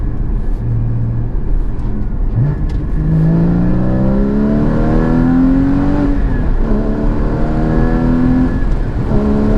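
A Porsche Cayman 981 GT4 engine, heard close and loud, drones as the revs climb and then drops sharply through shifts, with a smooth rising pitch between each change and no voices.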